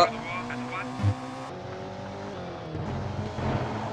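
A rally car in the PlayStation game Colin McRae Rally, its engine droning steadily with shifting pitch while someone talks over it throughout.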